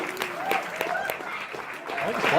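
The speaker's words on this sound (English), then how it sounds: "Give him a round of applause" Audience applause at the opening ceremonies of a pony fan convention, Ponyville Ciderfest 2018, a steady wash of clapping across the short stretch with faint voices mixed in.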